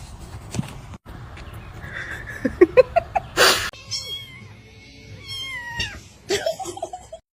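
A cat meows several times in short, wavering cries, with scattered clicks and thumps nearby and a burst of noise midway.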